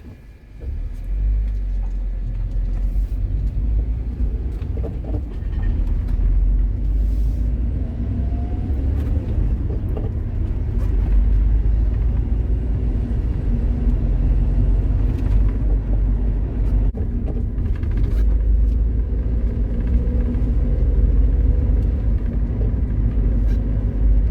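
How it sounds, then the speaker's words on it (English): A car driving along a road, captured by a dash cam, gives a steady, continuous engine and road rumble from inside the cabin that holds an even level throughout, with no talking. "now let's go for another drive"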